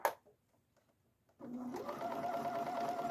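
A sewing machine runs steadily, stitching a sink cabinet skirt; a few quiet clicks come first, then the motor starts at about 1.4 s and hums on continuously and fairly close until the end.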